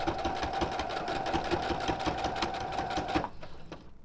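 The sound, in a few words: sewing machine back stitching a skirt seam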